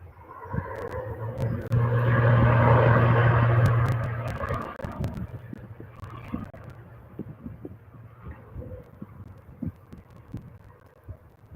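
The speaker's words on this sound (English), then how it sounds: "So Brussels Air coming in." Brussels Airlines airliner on approach into Manchester Airport, a broad engine roar swelling and fading away within a few seconds, heard from outdoors at moderate distance.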